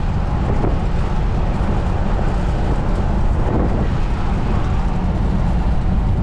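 A 1967 Pontiac Grand Prix convertible driving along a road, a loud steady roar of engine and road noise mixed with wind buffeting the open top, with no voices.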